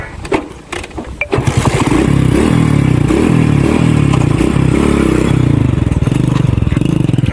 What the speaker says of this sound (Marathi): चला आम्ही चाललोय लेजंड बाईकवर.